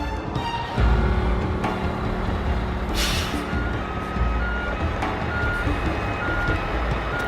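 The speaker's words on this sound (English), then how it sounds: "we're gonna back up and you gotta follow in our tracks" A truck backs up with a loud, steady series of regular reversing beeps over a rumbling engine, with a sharp hiss of air brakes partway through.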